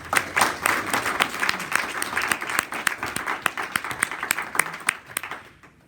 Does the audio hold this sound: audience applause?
yes